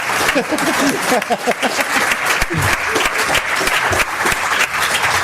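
A conference audience in London applauds after a talk, loud sustained clapping filling the room, with a voice briefly heard over it.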